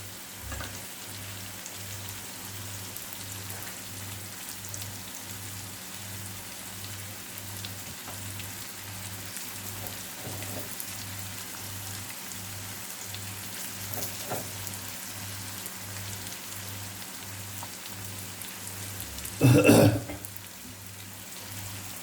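Lemon garlic fish pieces frying in a pan, a steady soft sizzle with faint crackles running throughout, plus a brief louder clatter near the end.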